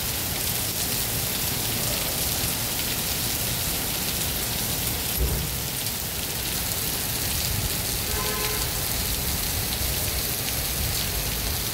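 Steady, dense rain pours down continuously in Dhaka Cantonment, a broad hiss filling the scene with no voices present.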